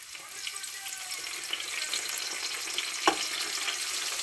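Ginger, garlic, green chilli and curry leaves hit hot oil for a fish roti filling, producing a bright, continuous crackling sizzle with small pops and one sharp clink near the end; no voices.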